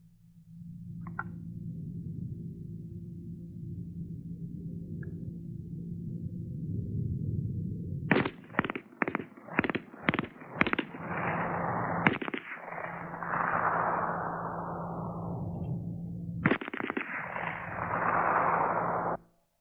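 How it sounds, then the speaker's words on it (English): An MP-18 submachine gun fires in fully automatic mode during a trench assault: a rapid string of about six loud, sharp shots rings out over a low steady rumble, followed by longer hissing bursts of noise. "You can see that the shooter of the submachine gun tackled his targets in only 5 seconds and still had ammunition for an 8th surprise target."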